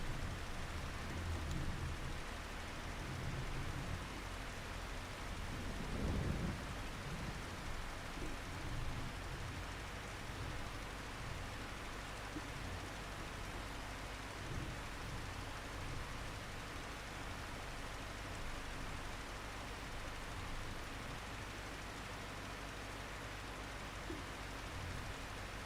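Steady, soft hiss of rain falling in the Farming Simulator 25 farming game, with faint low rumbles underneath and no voices.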